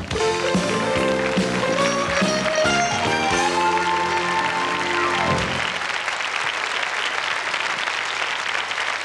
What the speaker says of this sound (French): Alors je vous demande d'applaudir Mademoiselle Fanfan.